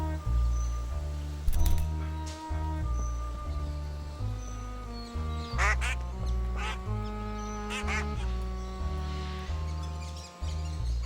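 A duck quacks in the wild over a steady low musical bed, several short bright calls standing out around the middle and near the end.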